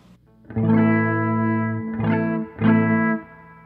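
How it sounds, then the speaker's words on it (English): Three strummed minor barre chords on a distorted fretless electric guitar, sounding buzzy and slightly sour, each ringing for about a second with short gaps between. "if I try and play a minor bar chord, this is how it'll sound"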